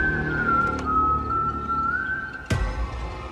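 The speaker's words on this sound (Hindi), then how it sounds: "तभी उसे फिर वही सीटी की आवाज सुनाई दी" A long, steady whistle that wavers slightly in pitch runs through most of a Hindi horror story, eerie and prominent. A sharp knock or impact cuts in near the end.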